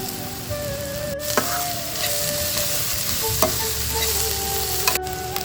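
Sliced onions fry in a hot pan with a pinch of turmeric, a steady crackling sizzle broken by occasional sharp clicks and scrapes of a spoon stirring them, with no one talking.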